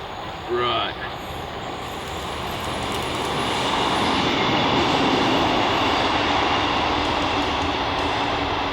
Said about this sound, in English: here we go, here's the first train.